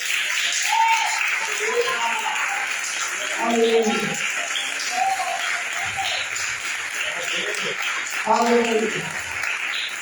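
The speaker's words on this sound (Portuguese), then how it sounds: "dê uma salva de palmas para Jesus" A church congregation claps in sustained applause for Jesus, a steady wash of hands running throughout while a voice calls out over it a couple of times.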